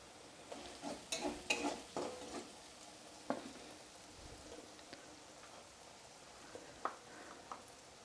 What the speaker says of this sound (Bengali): আবারও আমি এটাকে ভালোভাবে কষিয়ে নেব।